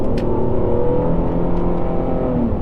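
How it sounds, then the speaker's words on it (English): A 2007-2012 Dodge Nitro compact SUV accelerates on the highway, its steady exhaust drone and road roar loud and continuous from start to finish, with no talk over it. "Get over to the left lane so you can hear that exhaust note again."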